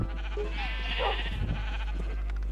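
Sheep bleat on a sick sheep farm in a video game, a drawn-out wavering bleat that swells in the middle and fades, over a steady low background hum.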